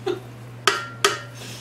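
A spatula knocks and scrapes against a mixing bowl holding buffalo chicken dip, three short close clinks with brief ringing tails over a steady low hum.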